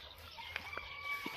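Hens cluck faintly in short, scattered calls against a quiet outdoor background, a few soft notes spread out over a second or so.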